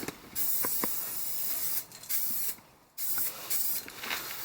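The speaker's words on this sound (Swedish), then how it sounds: "Då ska vi ta och spraya på svart på de här sargerna här." Bursts of black aerosol spray paint on a Volvo 740 hiss in short and longer pulses, close by, with brief pauses between sprays and no voices.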